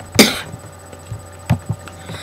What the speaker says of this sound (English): Sorry for all my coughing.